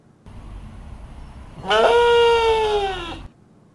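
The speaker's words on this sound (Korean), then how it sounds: "이건 딱 염소야" A goat gives one long, loud, wavering bleat close by, rising sharply then holding steady for over a second before breaking off, after a low rumbling background.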